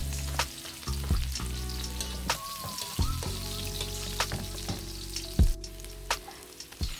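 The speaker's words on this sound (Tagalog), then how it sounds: "simulan natin sa pagpainit ng ating mantika. Gisahin lamang po yung ating bawang." Garlic and onion sauté in hot cooking oil for sotanghon guisado, a steady close sizzle and crackle with occasional clatters of stirring, lasting the whole stretch without any voices.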